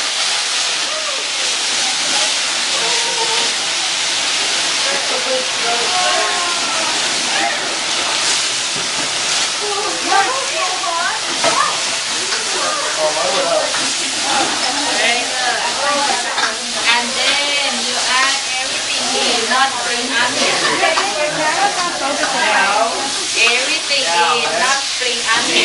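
Thai food stir-fried in a sizzling wok at a cooking class in Chiang Mai, a loud steady hiss and crackle of frying with scraping stir movements, as a voice gives instructions.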